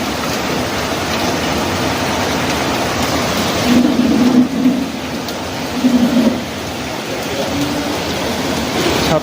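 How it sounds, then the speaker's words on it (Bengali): Heavy rain falling outside in the early morning on a trip to Darjeeling, a dense constant wash of noise with deeper rumbling swells partway through. "বাইরে পুরা বৃষ্টি পড়ছে।"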